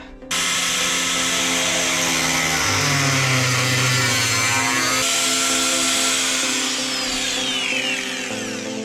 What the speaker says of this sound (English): I think we need to just get that disc cutter out and hopefully we're not going to burn too much